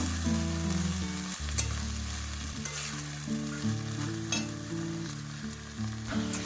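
Cabbage stirred in a frying pan for a vegetarian cabbage paturi, a steady sizzle under scraping stirs, moderately close, over background music, with no talking.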